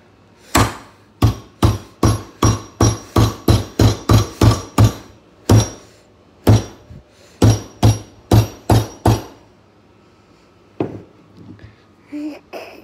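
Repeated sharp hammer strikes smashing Lego bricks in quick bursts, about twenty loud whacks with short pauses between groups, then a few faint clicks and rustles.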